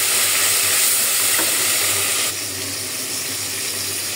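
Fish frying in a pan during cooking of a bottle gourd curry, a steady loud sizzle that runs throughout and drops slightly in level partway, with no talking.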